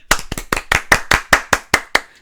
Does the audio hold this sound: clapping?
yes